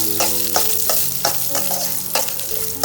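Coriander seeds, garlic and dried chillies frying in a pan, a loud, close sizzle broken by repeated stirring scrapes at a quick, uneven rhythm, with no voices.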